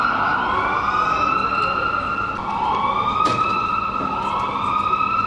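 An ambulance siren wails in smooth rising and falling sweeps, loud and fairly close, with a brief sharp knock midway and faint background noise beneath.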